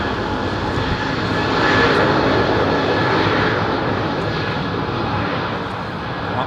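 Loud, steady roar of airliner jet engines spooling up at London Heathrow Airport, a broad rushing drone that swells slightly partway through and holds strong, no voices present.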